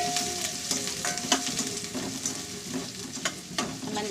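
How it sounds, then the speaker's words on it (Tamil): Finely chopped large onion fries in hot oil with whole spices for egg rice, giving a steady close sizzle broken by repeated scraping stir strokes, with no one talking. "நல்லா வெங்காயத்தை வதக்கி எடுத்துக்கிடலாம்."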